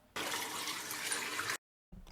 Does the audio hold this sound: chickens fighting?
no